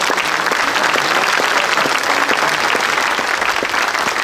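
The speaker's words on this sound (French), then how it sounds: "Vous m'applaudissez" Loud, dense applause from a large crowd at a political speech, a steady wash of clapping that holds evenly throughout without voices.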